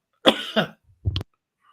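A person coughs close to the microphone, two quick harsh coughs followed by a shorter throat-clearing cough, in an otherwise quiet indoor setting.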